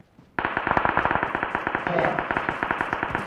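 Rapid automatic gunfire from the PUBG battle royale game, a dense stream of sharp shots starting abruptly after a short quiet moment and continuing steadily and loudly, with a voice briefly audible underneath.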